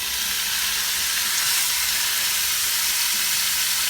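Beef meat dropped into hot oil in a pan, a steady loud sizzle and frying hiss that holds evenly throughout, close up and with no talking.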